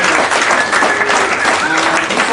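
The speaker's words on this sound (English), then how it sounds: "Can we get another round of applause, please?" An audience at a JavaScript developer meetup applauds, with continuous, fairly loud clapping that holds steady without pause.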